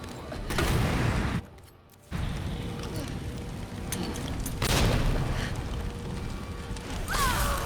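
Hand grenades blast in Resident Evil 2 Remake, several booming explosions separated by brief pauses, loud and close within game sound with a short quiet gap early on.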